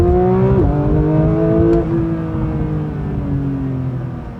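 A Porsche 992 GT3 in sport mode with a manual-style gearbox setting accelerates hard, its engine note climbing steadily, dipping briefly at a quick upshift, then rising again. Loud, close in-cabin sound with no talking.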